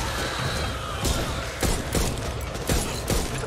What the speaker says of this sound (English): What the fuck was that guy shooting?